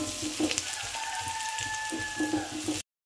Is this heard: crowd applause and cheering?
no